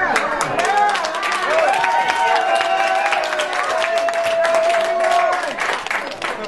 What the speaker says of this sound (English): I know you're not applauding me.